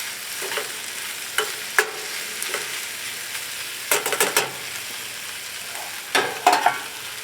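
Already-cooked onions and seasonings are reheated in a pan, a low, steady sizzle broken by clusters of spatula scrapes and taps, near and moderately loud, with no talking.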